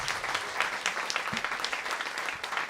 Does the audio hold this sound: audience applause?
yes